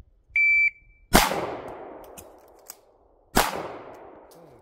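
Pistol shots during an Air Marshal qualification course of fire: a short electronic timer beep, then two loud, sharp gunshots about two seconds apart, each ringing out with a decaying echo, no talk.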